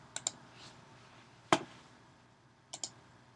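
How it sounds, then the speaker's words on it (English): Sharp mouse or keyboard clicks on a computer while working in the Alice 3 program: a quick double click, a louder single click near the middle, then another pair near the end, all over faint room hiss. "I click on custom decimal number and I type"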